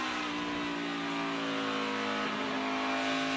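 A NASCAR race car engine at Phoenix during qualifying, a sustained, steady high-pitched drone heard from inside the car with the driver on throttle, loud and continuous with no voices.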